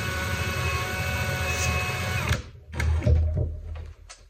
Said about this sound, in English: you'll want to just drill straight through the button